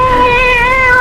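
A cat meows in a single sustained, tonal, fairly loud cry lasting about a second, heard alone and close in an old-time radio drama.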